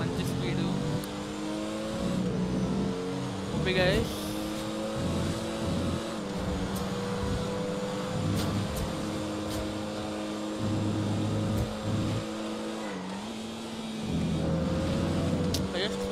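A car engine drives through GTA 5, humming steadily close up and rising and falling in pitch as the throttle shifts, with someone talking over it.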